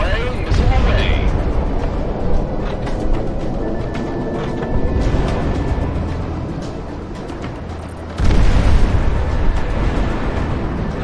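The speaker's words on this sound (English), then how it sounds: "Missile away, missile away." Missiles launch and explode in the Project Wingman jet combat game, a loud continuous roar of engines broken by a sharp burst and a heavy boom partway through, with a player talking over it.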